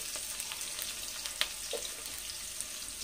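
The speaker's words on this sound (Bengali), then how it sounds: "করলাটা লাল লাল করে ভাজবো, নয়তো শুক্তোটা একটু বেশি তেতো হয়ে যাবে" Bitter gourd slices frying in hot oil, a faint even sizzle that hisses on without pause, with a few light crackles and one small knock.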